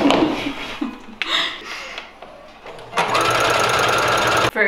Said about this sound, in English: So now I have to sew it while it's on the cardboard.